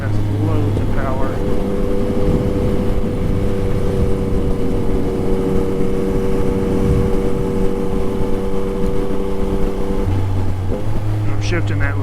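A 2021 Yamaha MT-09 motorcycle engine drones steadily up close, holding a strong hum with pitch changes as gears are shifted around 6,500 RPM, with rushing wind noise throughout.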